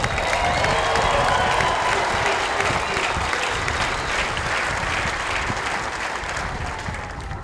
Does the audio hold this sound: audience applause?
yes